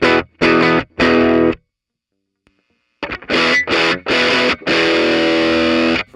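A 1981 Inventions DRV Blackout distortion pedal with every knob at noon drives a guitar into bright, treble-heavy, thin-bottomed fuzz: three short chord stabs, a brief silence, then a louder run of sustained, buzzing strums.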